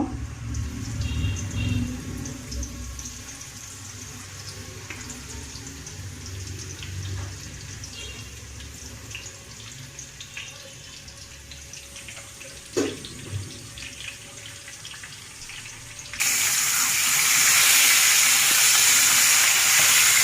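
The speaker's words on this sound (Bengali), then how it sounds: "এখন আমি মাছটা দিয়ে দিলাম ভাজার জন্য।" Koi fish frying in hot oil gives off a steady hissing sizzle that swells much louder and brighter near the end, with no talking.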